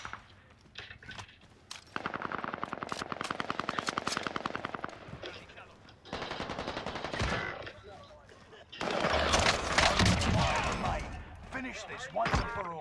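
Video game gunfire in Call of Duty Warzone: long bursts of rapid machine-gun fire, loud and close, broken by single shots and quieter gaps, with dense clattering shots near the end.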